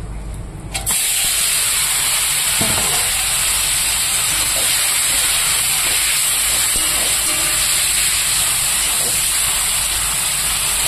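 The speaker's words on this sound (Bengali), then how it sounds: "শুকনো মাছ ভাজতে বেশিক্ষণ সময় লাগে না, জলদি করে হয়ে যায়।" Dried fish hits hot oil tempered with black cumin seeds. After a short quiet start it bursts into a loud, steady sizzle that carries on unbroken to the end.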